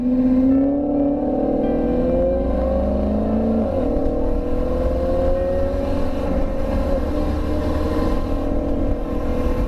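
A Suzuki V-Strom motorcycle on a commute home, its engine droning steadily and loud throughout with a smooth rising pitch as it accelerates, dipping briefly mid-ride before holding a constant cruising hum.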